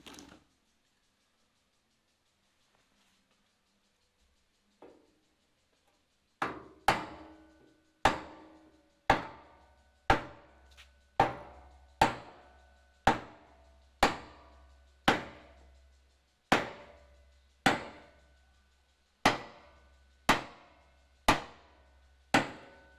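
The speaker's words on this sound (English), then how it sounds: "I'm going to try timber combined with the hammer," A hammer strikes a timber block held against the bodywork of a Ford XY sedan under restoration. After a quiet start, about eighteen sharp, close, evenly spaced blows ring out, each decaying quickly.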